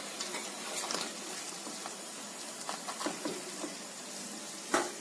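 Wheat-flour nimki pieces frying in hot oil, a steady soft sizzle with scattered pops and crackles, one sharper crack near the end, no talking.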